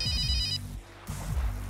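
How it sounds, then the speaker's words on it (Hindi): An electronic telephone ringtone plays in a quick two-burst pattern indoors, a bright trilling ring over a low background hum, with a short gap between bursts. "1 मिनट, फोन आया हमारे यहाँ।"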